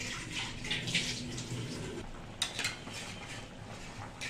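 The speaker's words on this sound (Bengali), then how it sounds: "এবার জল দিয়ে দিচ্ছে। এই জল দিয়ে দেওয়া হচ্ছে।" Water splashing and gurgling into a pan for a koi fish curry with cauliflower and peas, with light clinks of metal utensils against cookware.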